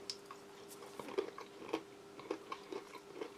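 Crunchy, slightly salted peanuts from a vegetarian Arctic field ration being chewed close up, a series of quiet crisp bites and crunches in an irregular rhythm with no talking.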